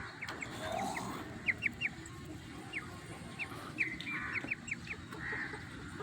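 A young rooster with a thorn stuck at the tip of its tongue clucks in short, scattered bursts against a steady low rumble of background noise.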